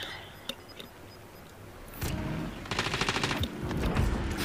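Bursts of rapid automatic gunfire from a weapon in Call of Duty Warzone, a few faint isolated shots first, then a loud sustained rattling volley and continued firing close by.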